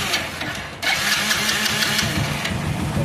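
A motorcycle with a carburettor problem cranks and catches, then settles into a steady, close, rough mid-pitched running note that holds to the end, with no talk.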